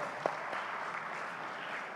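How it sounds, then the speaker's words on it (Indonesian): Studio audience at a talk show applauds a guest, a soft, steady patter of many hands heard at a distance, fairly faint and even throughout. "Kita kasih tepuk tangan untuk Wilson."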